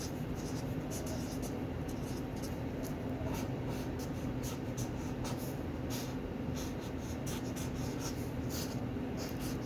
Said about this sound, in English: Wait for the drawing.